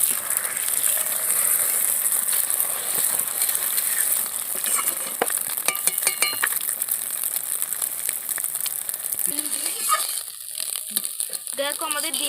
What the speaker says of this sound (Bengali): আমি আবার ডিমটা ভেজে নেব।